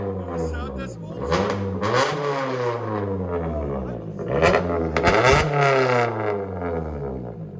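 A Toyota Corolla SE with a 2.0 engine and straight-piped exhaust revs repeatedly, its loud raspy note rising and falling through several throttle blips, close by and dominant.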